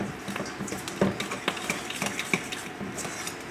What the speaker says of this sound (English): I'm going to add about ½ teaspoon of salt and a cup of Splenda